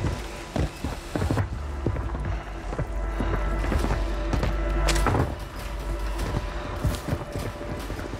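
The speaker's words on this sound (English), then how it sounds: "I hear him stomping around." Enemy footsteps stomping around in the video game Warzone, a run of heavy, irregular thuds over steady game ambience, moderately close and loud, with no talk.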